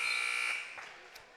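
A sustained electronic buzzer sounds at the end of the third quarter in a girls' high school basketball game between East Atchison and Albany, loud for about half a second and then fading into gym ambience.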